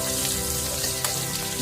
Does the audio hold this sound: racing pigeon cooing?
no